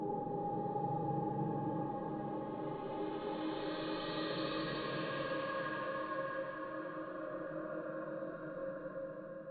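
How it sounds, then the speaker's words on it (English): A reversed whale vocalization sample forms a sustained, swelling tonal drone with steady layered tones, part of a reimagined Minecraft music track. "So it's a whale sample, but reversed."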